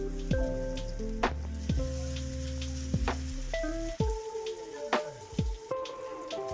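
Tikki potato patties fry in hot oil in a frying pan, a steady close sizzle with scattered pops and crackles, and a few clinks of a utensil against the pan.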